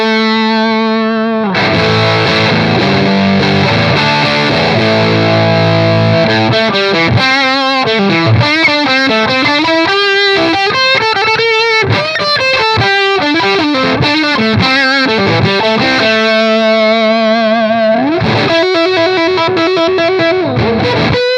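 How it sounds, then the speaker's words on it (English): Heavily distorted, fuzzy electric guitar through a Thorpy FX Veteran Silicon fuzz pedal into a Marshall amp, playing chords and bending notes, loud and sustained with a thick, compressed buzz throughout; no voices. "So let's try it with the fuzz first."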